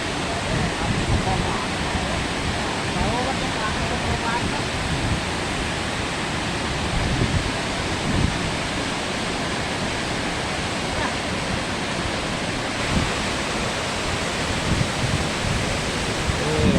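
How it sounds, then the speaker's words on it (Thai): Khlong Lan waterfall in Kamphaeng Phet, Thailand, roars steadily up close, a thick unbroken rush of falling water with slight surges throughout. "ครับบรรยากาศของน้ำตกคลองลานครับ"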